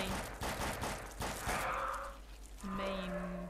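Rapid video-game gunfire aimed at bugs in a co-op shooter, a dense run of sharp bursts over the first two seconds followed by tonal game sound effects and a brief hum.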